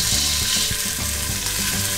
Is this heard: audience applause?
no